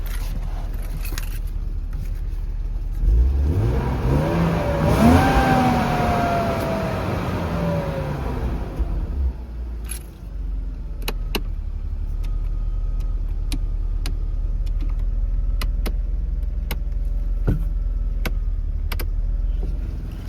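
A BMW E36 engine climbs in pitch as it revs up, holds, then drops back to a steady idle with scattered clicks.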